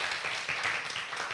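A church congregation claps in sustained, dense applause, a continuous close wash of many hands without pause and no voices on top.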